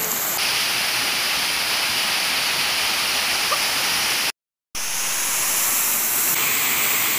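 Steady broadband rush of a small mini waterfall at a jacuzzi and steam spa, continuous and fairly loud throughout, with a brief dropout partway through and no voices.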